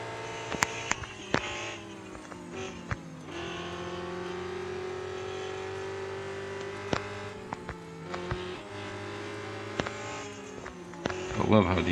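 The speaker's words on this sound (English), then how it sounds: "I love how the engine of that car sounds, that Toyota." A Toyota race car engine in a racing video game, at night on Le Mans, revs and shifts with a buzzing mechanical tone, pitch climbing and dropping through gear changes, with occasional sharp clicks.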